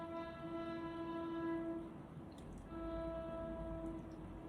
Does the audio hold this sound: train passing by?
yes